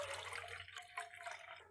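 Water poured into a JetBoil Zip cooking cup, a short, soft trickling splash that runs continuously and fades out near the end.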